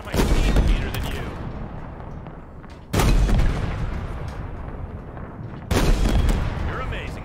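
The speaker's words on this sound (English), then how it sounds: "Sniper taking shots." Heavy gunfire from a sniper rifle in Halo Infinite, three loud, booming shots spaced a few seconds apart, each followed by a long rumbling tail amid dense combat noise.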